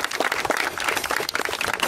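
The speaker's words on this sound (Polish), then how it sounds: "wielkie brawa" A small crowd at an Opel Rush season-opening event in Całownia applauds a contestant's timed run. The clapping is fairly quiet and steady, with no talk over it.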